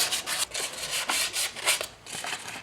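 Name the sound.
sanding brake hub with 400-grit sandpaper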